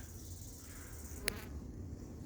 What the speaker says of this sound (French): Il y a moins d'abeilles qui volent, donc on les voit beaucoup mieux.